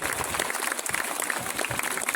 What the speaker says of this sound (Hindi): ऐसी तालियां बजाओ उन लड़कियों के घर तक पहुंचे।